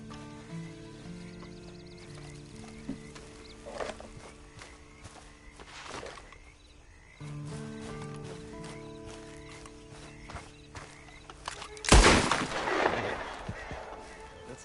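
Horse hooves clip-clopping at a walk in Red Dead Redemption 2 Online, a soft steady plodding beneath sustained game music and ambience, with a sudden loud crack-like burst late on.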